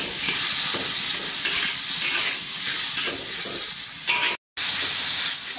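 Pig tongue stir-fried in a wok over raised heat, a steady close hiss and sizzle with soft scraping stir strokes, broken by a brief gap near the end.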